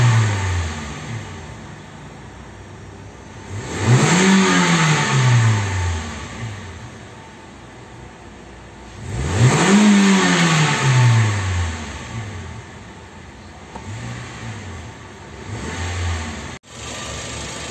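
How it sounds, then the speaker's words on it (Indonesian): A Toyota Avanza Veloz 2NR-VE engine runs at idle during a tune-up and is revved twice in long sweeping bursts, each rising and falling back, close and loud with no voices. "kita starter, kita nyalakan supaya sisa-sisa kerak dan obatnya bisa keluar lewat knalpot"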